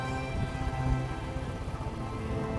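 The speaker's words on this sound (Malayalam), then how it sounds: "അതിനാത്രം മഴ ഇല്ല, ചെറിയൊരു ഡ്രിസ്ലിംഗ് പോലെ" A faint, even patter of light drizzle hisses softly in a forest village, with a low steady hum beneath and no voices.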